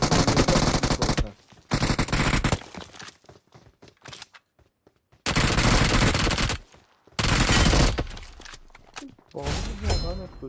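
Loud bursts of automatic gunfire in PUBG Mobile come in several long volleys separated by quieter gaps with footsteps, while players talk over the action.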